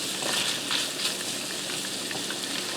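Sausage sizzles in a hot skillet with a steady, close frying hiss and small crackling pops, no voices.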